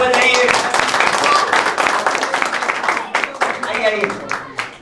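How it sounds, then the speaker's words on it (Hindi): Audience clapping at an end-of-year quiz event, a dense, fairly loud patter of many hands that fades slightly toward the end, with voices mixed in. "एक बार ताली खुद के लिए बजाइए।"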